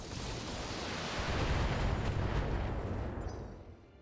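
Mech weapons firing in BattleTech Flashpoint: a dense, rumbling barrage of heavy blasts swelling to a roar, then fading out over a few seconds.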